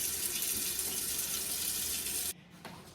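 Tap water runs steadily and loudly into a large pot at a kitchen sink, a constant hissing gush that stops abruptly near the end, leaving a quieter drip and trickle; no one speaks.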